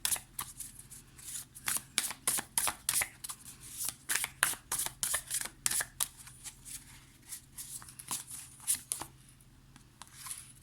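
A Muse Tarot deck is shuffled by hand in rapid bursts of crisp riffling card flicks, a close, quiet series of short rhythmic ruffles with brief pauses between them and no voice over them.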